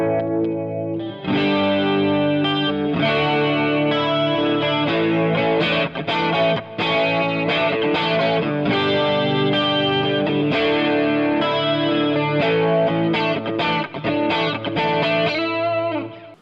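Electric guitar strums chords through a vintage BOSS Chorus pedal on output A, the shimmering, warbling chorus effect spreading across a steady run of rhythmic strums that continue for the whole stretch with no voices.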